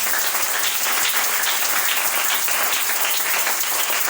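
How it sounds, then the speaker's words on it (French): A church congregation breaks into loud, steady applause, a dense wash of many hands clapping together that fills the room without pause. "On acclame le Seigneur."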